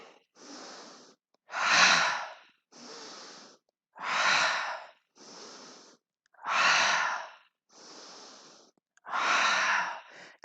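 Slow, rhythmic breathing during a yoga flow, with audible inhales and exhales alternating in long, steady cycles. Every other breath is a louder, breathier exhale, heard close up with no talking.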